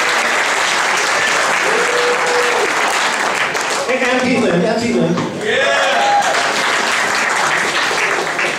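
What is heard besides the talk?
audience applause for Shirley Cecil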